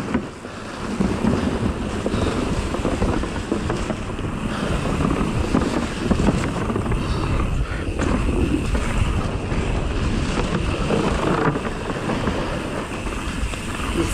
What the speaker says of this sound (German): Hier ist so Gegenwind.